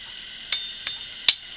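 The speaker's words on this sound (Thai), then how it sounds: "เสียบเอาไว้ให้ดีครับ แล้วก็ตอกครับ" Three sharp metallic hammer strikes ring out at uneven intervals, knocking the magnet off the back of a loudspeaker, each a bright clank over a faint steady background.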